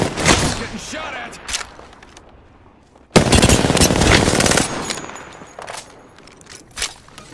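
Automatic weapon fire in the Apex Legends battle royale game, sustained bursts of rapid shots with a loud dense volley midway, over game effects and under a player talking.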